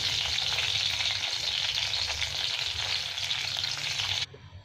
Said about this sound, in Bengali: মশলাটা একটু ভাজা হবে